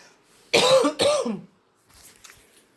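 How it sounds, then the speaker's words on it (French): Two sharp, loud coughs in quick succession from a person close by, then a quieter rustle and near silence. "Comme je l'avais dit, je vais tousser"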